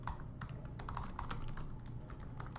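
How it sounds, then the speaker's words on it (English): Quick, fairly soft keystrokes tap out text on a computer keyboard while writing web page code, an even run of close clicks with no one speaking. "And I'm going to type in"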